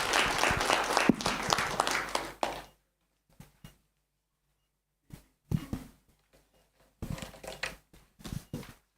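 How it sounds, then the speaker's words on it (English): Audience applause at a mentorship programme launch ceremony in Namibia, a dense burst of clapping for about two and a half seconds, then a few scattered claps and short noisy bursts separated by silence. "Can we please give a round of applause, ladies and gentlemen?"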